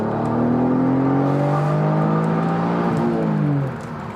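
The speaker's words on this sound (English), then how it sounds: "But it's the noise that this V6 makes." Alfa Romeo Spider 916 V6 revving hard, a loud, close engine note with rising and falling harmonics held for several seconds before easing off near the end; no talk.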